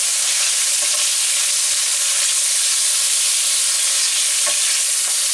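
Chicken livers brown gently in butter or ghee in a pan over low heat, producing a loud, continuous hissing sizzle with occasional soft stirring bumps, close and unbroken.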